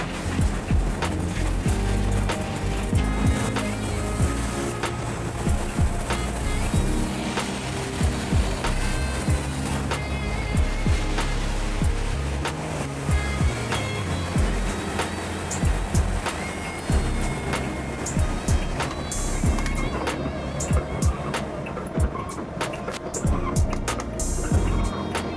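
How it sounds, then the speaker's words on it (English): Rotating bus-wash brushes scrub along the side of a bus in a service lane, a steady, loud churning, swishing wash with mechanical rumble that runs continuously throughout. "listen for the brushes on the side of the bus"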